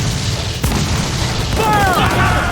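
Ship cannons firing in Assassin's Creed IV Black Flag, a sharp boom followed by a steady rumbling roar of battle, with shouting crew voices and whistling streaks cutting through the din.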